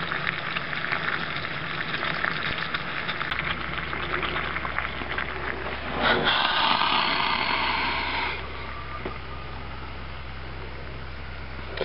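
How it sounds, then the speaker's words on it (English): Pieces of pine fat wood cut from an old post boil in water in a pot, giving a steady bubbling hiss that swells louder for a couple of seconds midway, with no talk. "Well, it's boiling away."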